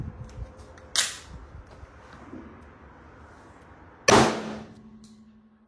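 Two sharp, separate gunshots of CCI Blazer Brass 10mm Auto fired from a 6-inch barrel crack out several seconds apart, each fading quickly into a quiet background.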